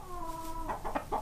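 Chickens cluck at feeding time on a farm that keeps Houdan hens alongside pigs, giving a couple of close, loud squawks and short clucks in a brief burst with no talking.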